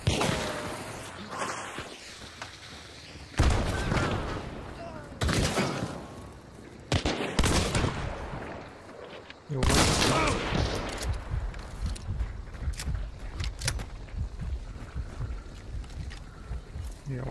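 Sharp gunshots and bursts of fire in an online survival shooter game, several loud cracks spread across the clip amid wind and ambient game noise.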